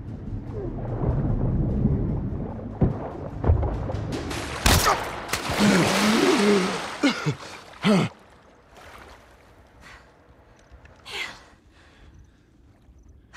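Gunfire in the video game The Last of Us Part 1: a dense run of loud, booming shots and blasts clustered in the middle, then scattered single shots and impacts trailing off over quieter game ambience.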